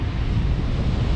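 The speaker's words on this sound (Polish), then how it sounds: "jak te fale rozbijają się" A steady, heavy roar of ocean surf on the Reykjanes coast of Iceland, with strong wind buffeting the microphone, continuous and loud with no voices.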